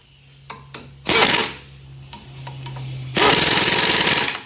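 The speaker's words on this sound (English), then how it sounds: "Now we got our 15 millimeter. We'll tighten these down." Tightening the front brake bolts on a 2005 Ford Five Hundred with a 15 mm wrench: a few light metallic clicks, then two loud sustained bursts of harsh ratcheting noise close by, no voices.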